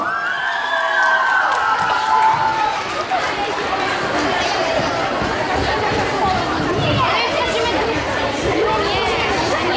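Children's dance competition award ceremony for ages 12 to 14, a big crowd clapping, cheering and shouting throughout, with a voice calling out at the start over the noise.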